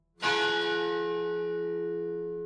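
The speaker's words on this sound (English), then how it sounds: "The sharp, piercing sound of a bell broke the calm silence" A single sharp, piercing bell strikes once, loud and close, then rings on with a long, steady, slowly fading tone, heard alone without talk.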